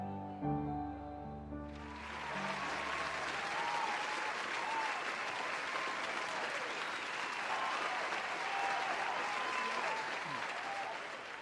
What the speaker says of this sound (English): can we give another round of applause for the wonderful opera singers and the beautiful orchestra over there?